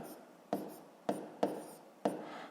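Pen strokes scratching across paper while working a sixth-grade math exercise, four or five short strokes each starting with a sharp tap and trailing off, close and quiet with no talking.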